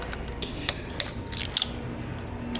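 Faint metallic clicks and creaks come from a wrench being worked on the spark plugs of a Lexus IS200, with a few sharp ratcheting ticks over a low background hum.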